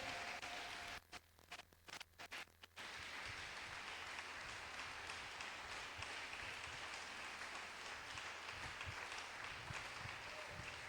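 A church congregation applauds in a steady, dense wash of clapping that fills the room, loud and continuous throughout after a brief stuttering start.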